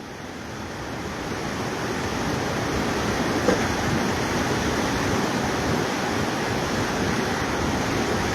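Banas river water rushing steadily near Ranthambore in Sawai Madhopur, a broad, continuous roar of flowing water with wind-like hiss, loud and unbroken throughout.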